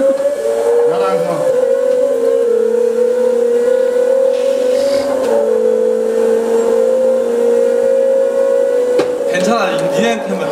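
In the Gran Turismo 6 racing game, a kart engine holds a high, whining rev with a slight drop in pitch midway and continues steadily, while people talk over it.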